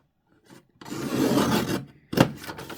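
A piece of material being trimmed along its side with a blade, giving a single sustained rasping scrape of about a second, then a short sharp second cut, close and fairly quiet with no talk.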